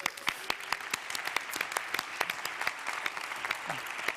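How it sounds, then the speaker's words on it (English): A round of applause from a live audience at a EUWIC 2019 event: many hands clapping in a steady, busy patter at moderate distance, holding for several seconds with sharper individual claps standing out. "Let's give them a round of applause"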